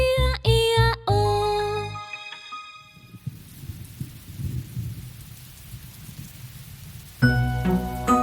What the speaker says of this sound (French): Pluie, va-t'en loin,